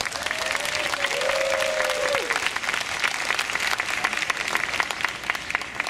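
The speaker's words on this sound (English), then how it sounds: "Let's give a round of applause to all the contestants." An audience at an international ukulele contest claps for the contestants, a steady, full round of applause that stays fairly even, with a brief whistle-like tone rising over it early on.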